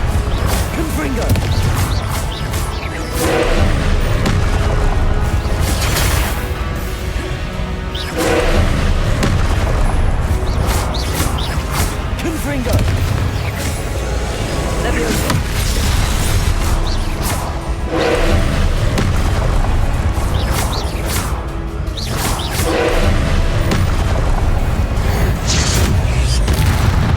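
Fire spell explosions in the video game Hogwarts Legacy, a run of loud, heavy booms and crashes repeating every few seconds over a dense, continuous game soundscape, with occasional voices.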